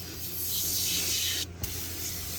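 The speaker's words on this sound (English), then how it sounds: "I've got the aerosol foaming cleaner to the rescue. We'll give it a try on this pedal" Aerosol foaming cleaner hisses steadily as it is sprayed onto the gas pedal of an old OBS dually farm truck. The spray is close and continuous, with one short break partway through before it resumes.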